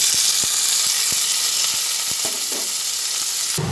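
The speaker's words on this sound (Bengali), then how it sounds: "তেল গরম হয়ে গেল তখন কিছু কুচানো পেঁয়াজ দিলাম" Chopped onion hitting hot oil in a wok and sizzling, a loud continuous bright hiss close by, punctuated by regular sharp spatter pops, no voices.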